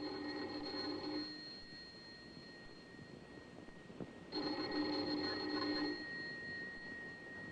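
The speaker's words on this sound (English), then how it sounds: "Let's begin this tale with the ringing of a doorbell." A doorbell rings twice, each a sustained electronic chime lasting about a second, separated by a quiet pause.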